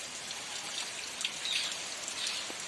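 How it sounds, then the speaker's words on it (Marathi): Steady monsoon rain falls outdoors in a dense, even hiss of countless drops, with a few louder splashes close by. "सतत पाऊस पडतोय थोडा थांबतोय थोडा पडतोय"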